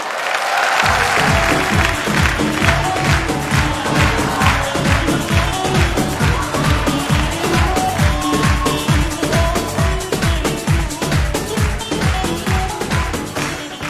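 Television studio audience applauding a guest's entrance, loud sustained clapping with a rhythmic pulse underneath, carrying on strongly before fading slightly at the end.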